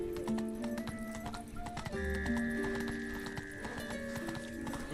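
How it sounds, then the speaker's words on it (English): Horse galloping in the video game The Witcher 3: Wild Hunt, with steady clip-clop hoofbeats and a brief whinny over tonal game music and ambience, no talking. "Run, Roach"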